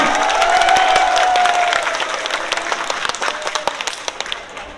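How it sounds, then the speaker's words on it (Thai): Crowd applause at a buffalo beauty contest in Kalasin province, for the junior milk-tooth class of black buffalo: dense, steady clapping from many hands that gradually thins and softens toward the end. "ใครคิดว่าแชมป์ตั้งอยู่กาลสินขอเสียงปรบมือหน่อย"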